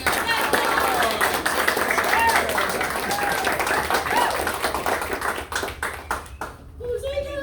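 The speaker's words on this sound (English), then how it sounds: "Please give him a round of applause" A seminar audience gives a round of applause as a presenter comes to the front, a close, busy patter of many hands that thins toward the end, with voices talking over it.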